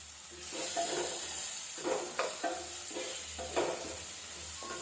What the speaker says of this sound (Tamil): கொஞ்சமாக கருவேப்பிலை போட்டுப்போம்